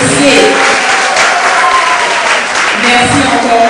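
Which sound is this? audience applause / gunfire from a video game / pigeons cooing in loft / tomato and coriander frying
audience applause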